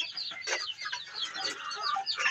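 Farm poultry, turkeys among them, clucking and calling in a dense, continuous flock chatter that sounds close and fairly loud, with overlapping bird calls throughout and no talking.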